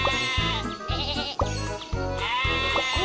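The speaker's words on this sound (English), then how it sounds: "Oh no! Sheep have wandered onto the tracks." Sheep bleating in a kids' train video game, a series of repeated wavering bleats in quick succession, close and fairly quiet, with no talk over them.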